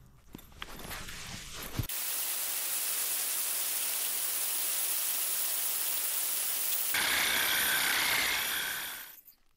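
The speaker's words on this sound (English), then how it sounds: "show me another drill that can make a 68mm hole in granite in under 2 minutes with a diamond bit" A drill with a 68mm diamond crown bit bores through granite, a loud, steady grinding hiss that runs for several seconds after a short start, then shifts to a harsher, brighter rasp before cutting off.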